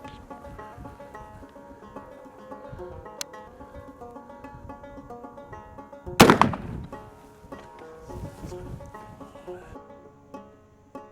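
A single sharp rifle shot firing a Hornady Great Plains bullet at an outdoor range cracks out loudly and echoes briefly, set against a steady bed of background music.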